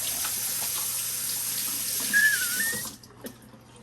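Pork for Hawaiian kalua pig is rinsed under a running kitchen tap, a continuous close splash of water that rises in pitch briefly before cutting off, leaving a few faint handling knocks.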